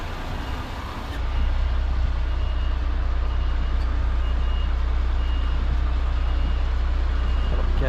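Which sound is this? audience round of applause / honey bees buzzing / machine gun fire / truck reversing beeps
truck reversing beeps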